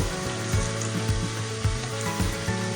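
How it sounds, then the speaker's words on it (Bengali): Sliced onions frying in oil in a pan while chicken kosha is being cooked, a steady close sizzle with faint periodic scraping, no voices. "পেঁয়াজটা দিয়ে ভাজতে হবে, কিছুক্ষণ ভাজবো আমি পেঁয়াজটাকে, হালকা হালকা ব্রাউন করব।"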